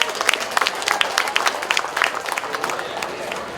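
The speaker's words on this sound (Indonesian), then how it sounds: "Mari kita berikan tepuk tangan yang meriah." Lively audience applause fills a formal ceremony launching a trial of paid plastic shopping bags in Indonesia, a dense, steady patter of many hands clapping at close range, with voices mixed into the crowd noise.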